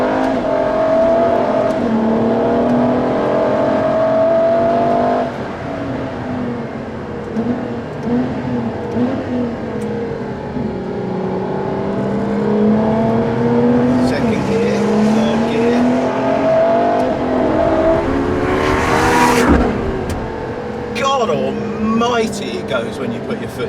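A 950bhp Ferrari LaFerrari engine pulls hard, its droning tone climbing and shifting as it accelerates through the gears, with someone talking over it much of the time.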